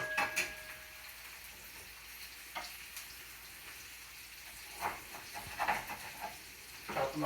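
Onions caramelize in a pan with a faint, steady sizzle, broken by occasional scrapes and clatters of a utensil stirring them, with no talk.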